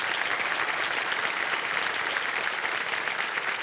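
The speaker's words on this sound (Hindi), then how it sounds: "जोरदार तालियां बजाती रहिए" Studio audience on the KBC quiz show applauding loudly and steadily, a dense continuous clatter of clapping with no pauses.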